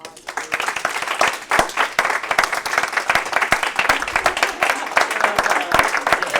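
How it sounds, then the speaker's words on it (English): An audience at a graduate learning lab session on bodynamics gives a speaker a round of applause, with distinct sharp hand claps building into a lively, uneven patter that continues steadily. "let's give Laura another round of applause."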